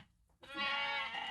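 A single sheep bleats in a field, a loud, wavering, nasal cry that starts abruptly after a moment of quiet and holds to the end.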